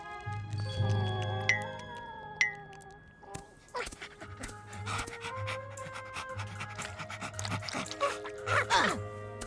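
An injured cartoon dog pants in quick, rhythmic breaths, fairly faint, under a busy animated soundtrack with scattered effects and a steady low tone.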